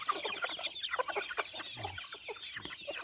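Backyard native chickens on a small Thai farm cluck in quick, overlapping bursts close by, a busy flock chattering with no talk over it.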